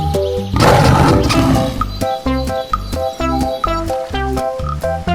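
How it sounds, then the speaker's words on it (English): A lion lets out a loud, close roar, a long rumbling call followed by shorter grunting bursts, heard over a bouncy children's music backing. "Lion."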